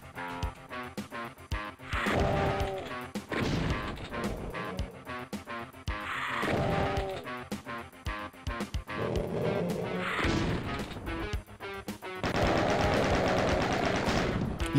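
Gunfire in DOOM (1993), repeated punchy shots in rapid bursts with crashing impacts, loud and close, filling the whole stretch with only short gaps.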